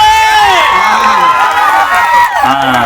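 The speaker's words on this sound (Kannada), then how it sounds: "ಬರ್ಲಿ ಒಂದ್ಸರಿ ಜೋರ ಚಪ್ಪಾಳೆ" Loud, dense crowd noise at a live comedy stage show, with shouting and whooping cheers filling the whole stretch; clapping is not distinct beneath the roar.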